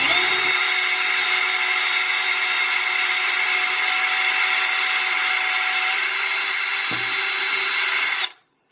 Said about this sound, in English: the diameter of the hole I've decided to drill is, of course, smaller than the diameter of the straw.